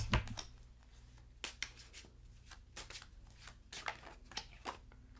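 A deck of tarot cards being shuffled close up, with repeated riffling bursts and soft flicks at an uneven pace, no voices.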